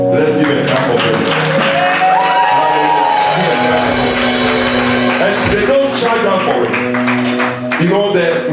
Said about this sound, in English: Let's give a clap of it.